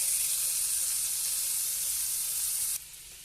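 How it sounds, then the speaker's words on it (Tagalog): Scallops stir-frying over high heat in a pan give off a steady, close, loud sizzle. It drops abruptly to a quieter hiss near the end, and nobody talks. "You have to stir fry the scallops in high heat."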